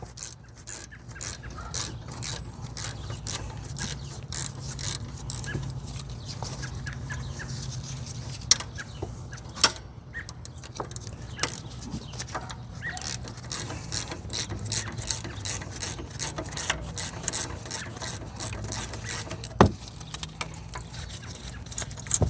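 A ratchet wrench clicks rapidly and steadily while loosening brake bolts on a car, close and continuous, with a rooster crowing faintly in the background.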